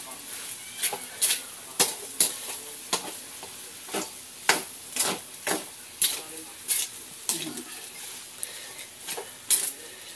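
Leftover rice and corned beef stirred and fried in a pan, a steady sizzle broken by repeated sharp scraping strokes of the spatula at a fairly regular rhythm, close and clear with no talking.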